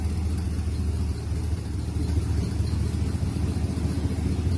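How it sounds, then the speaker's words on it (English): A freshly rebuilt 327 V8 runs steadily in a restored 1964 Chevrolet Impala SS with no exhaust system fitted, a loud, continuous low rumble close by with no talking. "327 fully rebuilt motor. Just got it fired up in the last 20 minutes."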